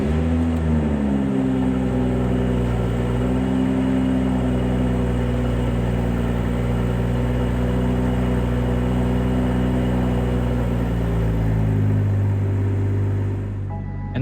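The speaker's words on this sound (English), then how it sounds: "Oh, it sounds really, really good. You hear that nice growl." A 2021 BMW M440i engine idles after a cold start with a deep, steady rumble that holds evenly, swelling slightly lower and heavier near the end.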